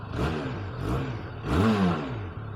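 A Benelli TRK 502 motorcycle's engine is revved up close at a standstill, giving a few rising and falling throttle blips, the strongest near the end, with no talk.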